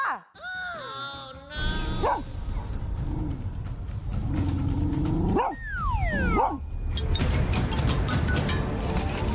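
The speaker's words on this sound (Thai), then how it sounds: "หมาสามตัวมันกำลังเห่างูที่แอบมาเข้าบ้าน" Three dogs bark and yelp agitatedly at a python that has slipped into a house, with overlapping, continuous noise and whiny, rising cries.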